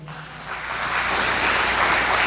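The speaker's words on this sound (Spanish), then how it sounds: "Dele ese aplauso al Señor" Applause from a church congregation swelling in after a brief quiet moment, growing into a steady wash of clapping.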